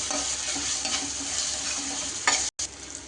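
Ginger garlic paste fries in a hot pan for a cabbage curry, a steady close sizzle with scraping stirs throughout and a brief cutoff near the end.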